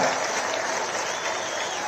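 A crowd at a political rally claps together, producing a steady dense wash of applause that continues without a break.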